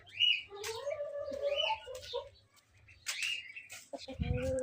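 Birds chirp and call in short, varied bursts at close range, with a few flutters and a low clucking near the end.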